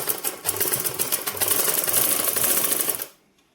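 A tailoring sewing machine stitches a blouse sleeve with a fast, steady mechanical whir for about three seconds, then stops abruptly into near silence.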